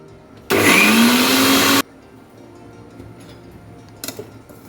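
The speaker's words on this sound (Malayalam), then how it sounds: "ഒന്ന് ഉരുട്ടിയെടുക്കാൻ പാകത്തിന് അരച്ചെടുക്കാം" A mixer grinder pulses briefly on urad dal chutney with a little water added, giving one loud whirring burst of just over a second followed by quiet handling sounds.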